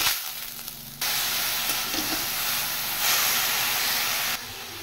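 Papaya pieces hit hot oil with mustard seeds for a sweet plastic chutney. After a brief quieter moment, a loud, steady frying hiss bursts in and swells slightly midway.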